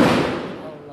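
A single firecracker bang opens loud and close, then a noisy crackling decay fades out over about a second.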